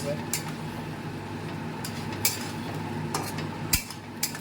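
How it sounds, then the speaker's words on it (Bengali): Paneer is sautéed and stirred in a pan, with a low background sizzle and hum. Several sharp scrapes and clinks from a spatula stand out at irregular moments, close and fairly clear. "এখন একটু ভালো করে কষিয়ে নিচ্ছি পনিরগুলোকেও ছেড়ে দিই"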